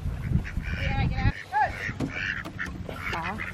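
Several ducks quack nearby in a busy, overlapping chorus, with people talking in the mix.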